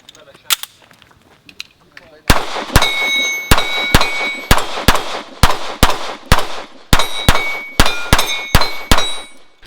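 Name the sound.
Arex Rex Zero 1 pistol shots hitting steel targets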